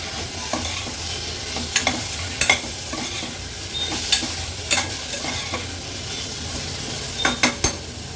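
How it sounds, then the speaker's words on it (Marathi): Washed chicken pieces are stirred with turmeric in a pot, giving a steady soft sizzle broken by sharp spoon scrapes and knocks against the metal, a few louder clatters near the end. "ह्याच्यामध्ये हे स्वच्छ धुतलेले चिकनचे पीसेस ॲड करते, मिक्स करून घेते हळदीवर"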